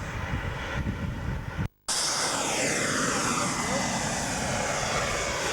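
A model jet at a Scottish airshow roars past with a loud, continuous engine whine and rush, the pitch sweeping as it passes, following a brief cut in the sound.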